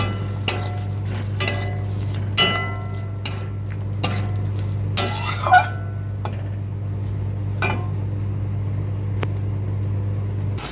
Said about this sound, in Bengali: তিরিশ 40 সেকেন্ডের মতো কষিয়ে নিলাম, আদার কাঁচা গন্ধটা চলে গেছে।